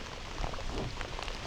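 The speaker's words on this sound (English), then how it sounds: "Yeah, it's raining pretty good now." Steady rain patters across lake water, a dense, even hiss that fills the whole short stretch.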